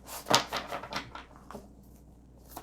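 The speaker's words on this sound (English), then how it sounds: "One more shuffle." A deck of tarot cards is shuffled by hand, giving a quick run of close papery riffles and taps that trail off into quiet, with a last soft tap near the end.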